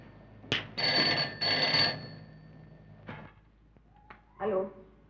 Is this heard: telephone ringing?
yes